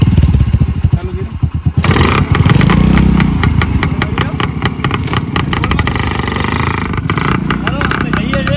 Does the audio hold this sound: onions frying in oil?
no